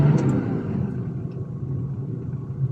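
Heavy road traffic in Makati City, Philippines, heard as a low, continuous rumble of car engines nearby, with occasional faint higher sounds drifting over the steady drone.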